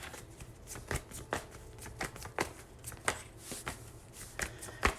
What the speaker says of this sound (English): I'm going to lay some more cards down